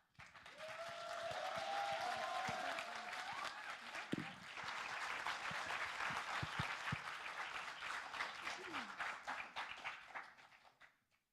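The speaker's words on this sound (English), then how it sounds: "Please, a round of applause for encouragement." An audience at a student project defense gives a round of applause, steady clapping that swells and then thins into scattered claps before stopping, with some voices mixed in.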